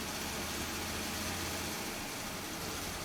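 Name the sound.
Chevy Impala engine RPM changing as purge solenoid opens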